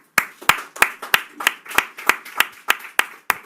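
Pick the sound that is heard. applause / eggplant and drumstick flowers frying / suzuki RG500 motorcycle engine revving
applause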